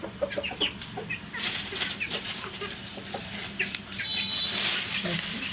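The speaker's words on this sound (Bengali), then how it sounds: "বড় ডিম পারে দেশি মুরগিটা" Native hens cluck and call in a farmyard with intermittent sharp bursts over a steady background hum, and the clucking grows louder toward the end.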